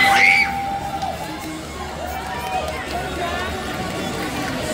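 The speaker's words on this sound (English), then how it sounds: "let's have one last cheer for our contestants" A crowd at the GachaFest cosplay event cheers for the contestants: a sharp shout at the start, then a steady wash of mixed yelling and shouting voices holding at a moderate level.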